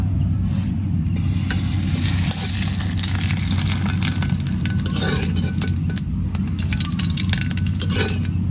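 Thin sago papad frying in hot oil, a loud continuous close sizzle and crackle with occasional light clinks of utensils against the pan.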